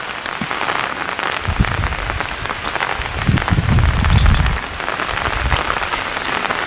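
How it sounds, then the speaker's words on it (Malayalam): Steady June rain falls during an outdoor rambutan harvest, a dense, continuous hiss of drops hitting surfaces with a deeper swell of heavier pattering in the middle and no voices. "മഴ പെയ്തുകൊണ്ടേയിരിക്കുവാണ്"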